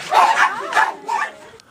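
A dog at a shelter in Daejeon gives three quick, close barks with a yipping edge, each bark short and sharp with brief pauses between them.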